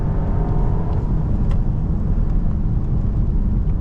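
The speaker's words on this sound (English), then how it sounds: "You're just hearing this, yeah, pretty highly strung 2-litre turbo 4-cylinder doing its thing." Inside the cabin of a Volkswagen Tayron with a 2-litre turbo four-cylinder, a steady, loud low engine drone and road rumble continue without a break under the drive, with no speech.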